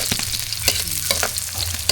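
Food sizzles and is stirred in a hot pan, a steady frying hiss broken by sharp scraping and clattering strokes of the utensil at close range, with no voices.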